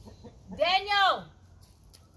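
A rooster lets out a single loud, drawn-out harmonic call near a backyard shed, preceded and followed by quiet clucks and ambient noise.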